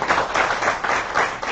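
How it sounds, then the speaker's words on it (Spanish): An indoor audience at a talk gives a short burst of steady applause, dense and fairly close, with no voices over it. "le damos un aplauso para que empiece"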